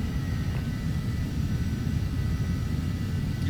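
Steady, loud low-pitched engine drone of an airplane in Microsoft Flight Simulator X (Steam edition), continuous rumble with no talk, holding evenly throughout with faint tonal hum above.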